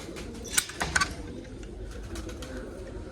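Soft pigeon coos and a few brief bird calls over a low, steady background rumble, with no talking.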